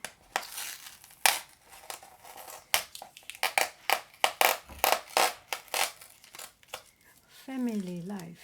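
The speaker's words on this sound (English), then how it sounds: "Let me use the scissors to try it." Scissors cut open the packaging on a tea unboxing, close and crisp: a rapid series of sharp snips, crinkles and tearing plastic, then a voice near the end.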